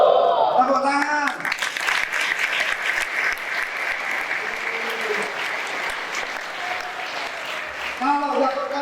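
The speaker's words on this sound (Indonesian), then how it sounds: "Tepuk tangan." Audience applause at an Islamic religious lecture, a steady sustained clapping from a crowd lasting several seconds, with a voice speaking briefly at the start and end.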